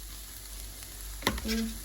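Vegetables with carrot fry in a pan as sambar powder is stirred in, giving a steady close sizzle with a sharp utensil clatter against the pan midway, followed by brief scraping.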